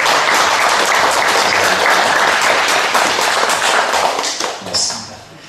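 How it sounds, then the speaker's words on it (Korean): A church congregation claps during a Sunday service to bless visiting parents, a dense, steady round of applause that fades out near the end, with a few voices mixed in. "박수로 축복하시겠습니다."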